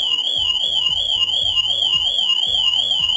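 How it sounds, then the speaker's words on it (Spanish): A Mercedes W205 car alarm siren wails continuously, a steady high warble over a rapidly repeating lower rising tone, close and unbroken. "Se dispara la alarma."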